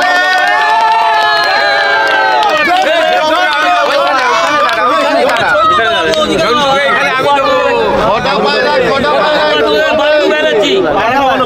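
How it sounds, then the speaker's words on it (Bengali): A loud crowd cheers and shouts nonstop at a prize ceremony for a pigeon flying competition in Kolkata, the dense roar carrying tonal shouting and chatter throughout. "জোরে হাততালি।"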